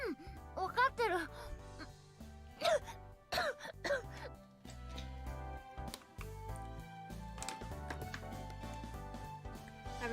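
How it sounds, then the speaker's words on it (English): Sputtering coughs and throat clearing from a game character choking on bacon, eggs and toast at breakfast in Psychedelica of the Black Butterfly, several sharp bursts mixed with Japanese voice acting over soft background music. "Having tried to wolf down a huge mouthful of bacon and eggs and toast, I start to cough."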